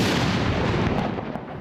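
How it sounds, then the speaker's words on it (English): A ceremonial cannon gun salute in Manitoba honoring the late Queen, one of four cannons firing 96 shots: a single loud, booming blast that rolls out and decays over a second and a half outdoors, no voices. "The province held a gun salute this morning in honor of the late Queen."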